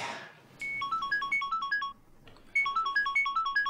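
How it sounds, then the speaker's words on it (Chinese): A telephone ringtone plays a bright, repeating electronic melody in two bursts, separated by a short pause and heard clearly without talk. "刘能电话"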